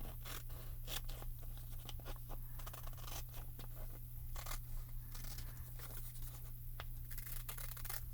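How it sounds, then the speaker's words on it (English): Close scissors cut through excess paper in a papercraft project, giving a run of quick snips and rustling paper over a steady low electrical hum. "I'm just going to cut the excess off here."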